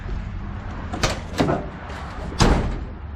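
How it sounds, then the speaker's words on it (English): A few solid clunks of a Ford F-250 pickup truck's doors shutting after new body bushings, three distinct knocks spaced over a couple of seconds against a low background rumble. "the doors never open and close well on this truck. But, oh man, they do now"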